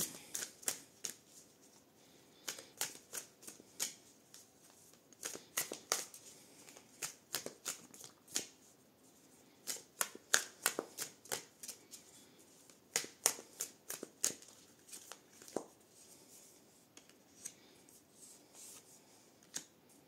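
Tarot cards are shuffled and drawn for a couples reading, giving a long run of crisp, close card snaps and flicks in irregular bursts, fairly quiet with no talking.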